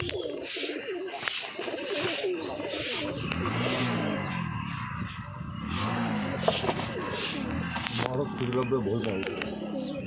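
Pigeons in a rooftop loft coo in repeated low, throaty rolls, close and clear, with wing flutters, occasional chirps and people talking nearby.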